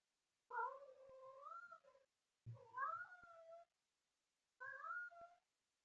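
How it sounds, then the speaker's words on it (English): A house cat meows loudly indoors in three drawn-out, wavering calls separated by short pauses, near and alone. "Sorry about the last noisy cat."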